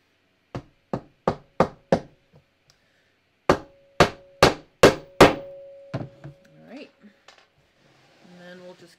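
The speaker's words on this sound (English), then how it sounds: "I have a whole pound of nails, so I can really go to town with my nailing here" A hammer drives nails into a homemade pressing surface for sewing, giving two quick runs of five sharp, ringing strikes, close and loud, followed by softer handling noises and a brief spoken voice near the end.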